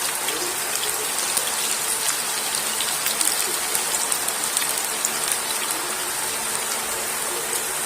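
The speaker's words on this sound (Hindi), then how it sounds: "आपके सामने फ्राई कर रहे हैं हम भिंडियाँ।" Okra (ladyfinger) frying in hot oil gives a dense, steady sizzle of fine crackles that holds unbroken throughout, with no speech.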